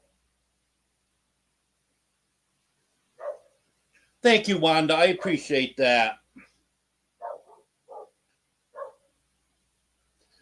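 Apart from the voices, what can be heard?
dog named Honey barking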